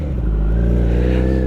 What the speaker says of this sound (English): we let off the throttle, pull in the clutch, and now click down in the gear